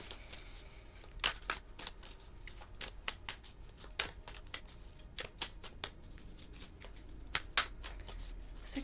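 Tarot cards shuffled and drawn by hand, a quiet run of soft riffling slaps and crisp flicks at an irregular pace, close up, with no talk.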